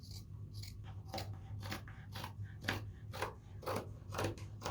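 Scissors snip across a T-shirt for a scarf craft, about ten quick, even crunching cuts in a steady rhythm, close and fairly quiet, with no voice.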